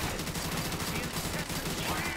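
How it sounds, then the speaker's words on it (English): Rapid gunfire in a Black Ops 3 custom zombies map, with dense, continuous bursts of automatic shots and overlapping weapon fire. Players talk faintly underneath. "Oh, he's shooting."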